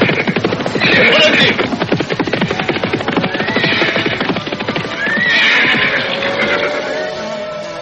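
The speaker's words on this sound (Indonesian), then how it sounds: "dipacunya kuda tunggangannya itu cepat-cepat" A horse gallops fast in a radio drama, with rapid, loud, close clip-clop hoofbeats running the whole time, overlaid by repeated whinnies and neighs.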